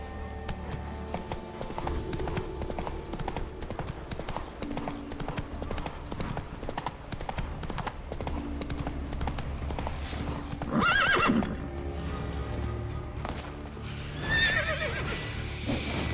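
The horse Roach gallops in The Witcher 3, its hooves pounding in a quick, steady clip-clop throughout, loud and close, with a whinny and some game sounds and music around it.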